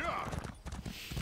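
Horse hooves clip-clop at a steady trot in the fantasy game Elder Scrolls Online, a close, quick rhythmic patter of hoofbeats that continues throughout at moderate loudness.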